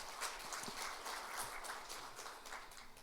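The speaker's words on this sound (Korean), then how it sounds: "박성훈 부산시 부시장님, 우리 감사의 박수 한번 부탁드리겠습니다." Audience at an online women's peace concert event claps in sustained, fairly faint applause, an even patter of many hands with no talk over it.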